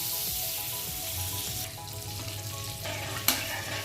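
Butter and white oil heat together in a frying pan for white sauce pasta, giving a close, steady sizzle with a brief clink near the end and no voices.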